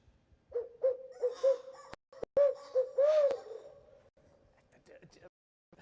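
A voice imitates an owl with a string of short, rhythmic hoots, fairly close and moderately loud, broken by a few sharp clicks and breathy gasps.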